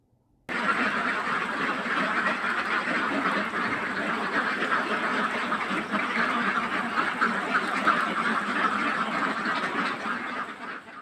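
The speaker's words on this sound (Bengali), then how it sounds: "আমরা চাচ্ছিলাম সবগুলো হাঁস যাতে একসাথে ঘরের ভিতর ঢুকে খাওয়া শুরু করতে পারে" A flock of Khaki Campbell ducks quacks nearby in a dense, continuous chorus around their shed, starting abruptly and keeping up loudly throughout.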